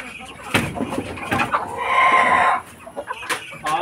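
Caged roosters on a rural backyard farm cluck restlessly, and one lets out a sustained crow in the middle. A voice talks over the birds throughout.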